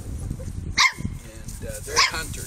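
Norwegian Elkhound puppies, five weeks old and of Finnish bloodline, give two short yips, close by and a second apart, over a steady background of people talking.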